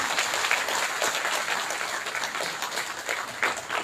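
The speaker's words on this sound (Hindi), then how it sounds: "एक बार सफाई कर्मियों के लिए जोरदार तालियां" Loud, steady applause from a seated audience honoring sanitation workers at a municipal directorate workshop, dense clapping sustained throughout without speech.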